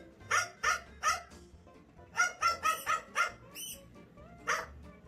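A dog barks in short sharp bursts, a quick pair, then a rapid run of five or six close, loud barks, ending with a single bark after a brief whimper-like call.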